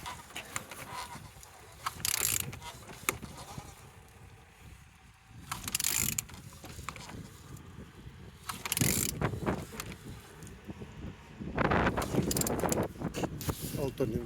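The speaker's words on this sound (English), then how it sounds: "Turning engine L4V19." Engine L4V19 (YE13TXB) is turned over by hand, giving repeated bursts of loud ratcheting, grinding mechanical noise separated by short quieter pauses.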